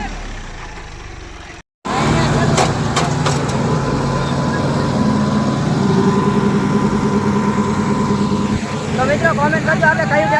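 A John Deere 5210 and a Kubota tractor pull against each other in a village tug-of-war, their engines droning loud and steady at close range. A brief dropout comes near the start and a warbling rise near the end.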